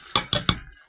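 A metal lid set onto a pot of freshly cooked white rice, making three sharp clinks in quick succession, close and clear, with no talking.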